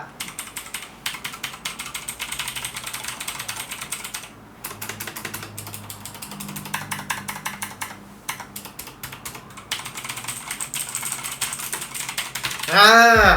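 Fast, clicky typing on a Pentagonz Terrorblade mechanical keyboard with blue switches and keycaps fitted runs steadily throughout at close range, with brief pauses between bursts of keystrokes and no talking.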